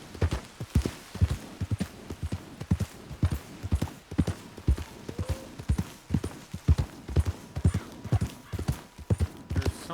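Horse hooves clip-clop steadily in Red Dead Redemption 2, a close, even walking rhythm of sharp thuds lasting throughout, with a faint tone and light background noise beneath.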